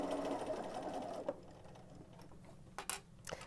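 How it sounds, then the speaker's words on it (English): A sewing machine stitches piping into place along cording for a pillow, a fast buzzing run of stitches that stops after about a second, followed by quieter clicks and taps of the machine. "You're going to line it up along the edge of the cording and sew it into place."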